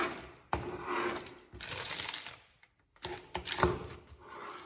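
A knife slices keto bread into cubes on a board, giving a series of soft crunchy cuts and taps in uneven bursts with short pauses, close and fairly quiet.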